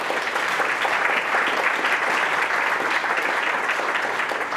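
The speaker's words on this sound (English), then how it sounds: "So just quick round of applause for Matt, for them, for video." An audience gives a loud, sustained round of applause for event sponsors, dense clapping filling the whole stretch without a break.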